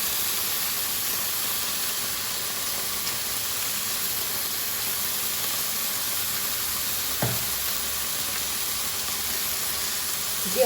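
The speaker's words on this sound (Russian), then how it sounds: "Делаем мы это все на сильном огне, чтобы хорошенько поджарить" Chicken pieces fry in a pan over high heat, giving a steady loud sizzle with a hiss of steam and one brief clatter of handling partway through, with no talking.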